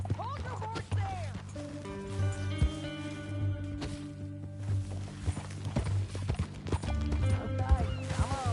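Horse hooves clip-clop in an even rhythm over a low musical drone in a video game, with a voice speaking briefly at the start.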